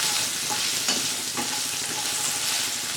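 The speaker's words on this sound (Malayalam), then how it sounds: "വെണ്ടക്ക വഴറ്റാൻ തുടങ്ങിയിട്ട് ഒരു 5 മിനിറ്റ് ആയിട്ടുണ്ട്." Okra sautéing in a pan for sambar gives a steady, close sizzle with a few scraping stir strokes, alone and without talk.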